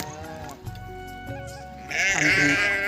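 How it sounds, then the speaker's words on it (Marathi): Several sheep bleat in wavering, drawn-out calls, one loud bleat rising near the end, with some voices in the background. "पहा मित्रांनो, फायनली आमच्या मेंढ्या येऊन लागले"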